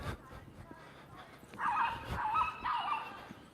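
Dogs whimper and whine in thin, wavering bursts partway through, fairly faint and mixed with background noise, with muffled voices around them.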